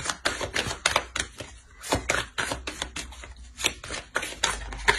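Tarot cards being drawn and handled, a fast run of close crisp card snaps and shuffling flicks in uneven rhythm, with no voice.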